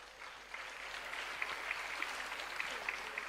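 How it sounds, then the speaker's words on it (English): An audience at an awards ceremony honouring young achievers claps steadily, a soft, distant wash of hands from a crowd with a few sharper claps standing out, and no talking. "Give a big round of applause for her."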